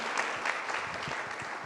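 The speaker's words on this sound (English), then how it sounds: "Huge round of applause for him." Audience clapping for a speaker being introduced at a film talk session, a brief, moderately soft burst of steady applause heard from within the room.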